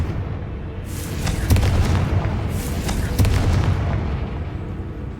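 Confringo blasting spells go off in Hogwarts Legacy combat, heavy booming bursts layered over a dense, rumbling game soundscape with two sharper cracks standing out near the middle.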